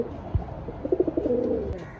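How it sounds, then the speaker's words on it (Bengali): White king pigeons cooing with a short series of soft, low throaty pulses, fairly close, over a faint background hum. "দেখেন অনেক বড় সাইজের একজোড়া সাদা কিং কবুতর"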